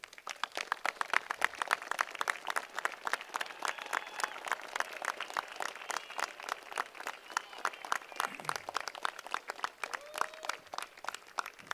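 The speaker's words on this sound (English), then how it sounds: "Would you please stand and give them a round of applause?" Graduating class at a 2022 high school graduation ceremony gives a long, sustained round of applause, dense steady clapping from many hands throughout with a faint murmur of the crowd underneath.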